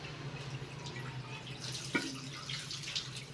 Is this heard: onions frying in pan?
no